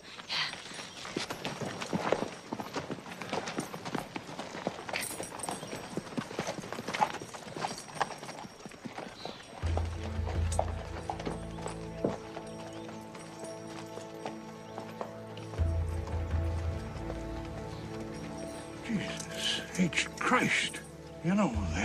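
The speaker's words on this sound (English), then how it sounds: "look at his horse. He's been doing some hard riding." Horse hooves clip-clop in a steady rhythm, fairly close, with a horse neighing briefly and voices talking over them.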